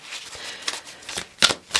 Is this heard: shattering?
no